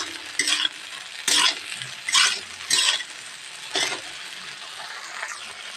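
Malabar spinach seeds stirred in a pan as they fry, with a spatula scraping the pan in five or six distinct strokes over a soft, continuous sizzle.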